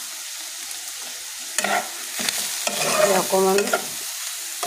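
Food with whole cumin seeds is stirred in a hot pan, a spoon scraping in short rough strokes over soft sizzling, close and moderately loud, with one brief spoken word.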